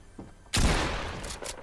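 A burst of gunfire in Fortnite, with a single sharp, loud shot cracking in after a quiet moment and a long decaying rumble, followed by a few fainter later hits.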